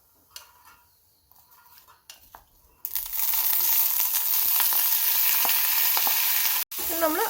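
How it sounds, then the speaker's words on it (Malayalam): Chopped banana stem drops into a hot pan with curry leaves and bursts into a loud, steady sizzle that holds for several seconds, with scraping and stirring scrapes on top, after softer kitchen clinks and handling noises. "ഇനി നമുക്കിതിലേക്ക് വാഴപ്പിണ്ടി ആഡ് ചെയ്ത് കൊടുക്കാം"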